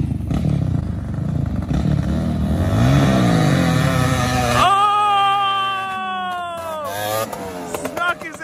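A Honda TRX700XX ATV and a Honda Odyssey FL350 race a short 200-foot stretch, engines roaring loudly up close and then revving through rising gear changes as they pull away, with clattering noise in the mix.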